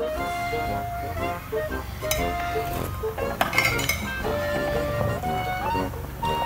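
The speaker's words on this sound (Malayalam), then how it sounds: "ഇതൊന്ന് നല്ലോണം ഇളക്കി കൊടുക്കാം" Semiya payasam with boiling milk being stirred in a metal pot, giving close clinks and scrapes of a spoon against the vessel over a low bubbling background, several sharp metallic knocks, no voices.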